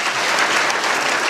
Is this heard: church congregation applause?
yes